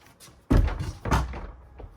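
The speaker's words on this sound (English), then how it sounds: "you literally have to line these pins up with the holes," Heavy-duty metal garage shelving is assembled by knocking its pins down into the holes, giving two loud, close thuds with a brief rattling ring after each.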